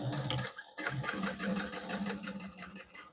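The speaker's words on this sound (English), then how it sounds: "I'm only sewing along that opening" A sewing machine edge stitches a holiday armadillo stocking along its opening, running in quick steady bursts of needle pulses after a brief pause, close and clear with no talking.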